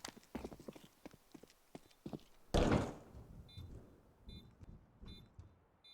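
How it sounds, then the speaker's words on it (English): Double doors swing open on the Nuke map in Counter-Strike, a loud burst of creaking and sliding noise in the middle, with footstep clatter before and after and faint game beeps. "Double doors also opened up."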